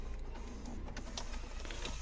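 A climate control servo motor runs inside the dashboard of a VW T5 Multivan, giving a steady mechanical whir with faint clicks, quiet and continuous, without speech.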